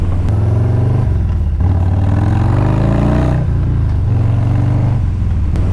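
Harley-Davidson FXLRS with a 117 engine, stealth pipe and dyno tune revving hard on a ride, a loud, continuous deep rumble rising and falling in pitch through repeated throttle surges and gear changes.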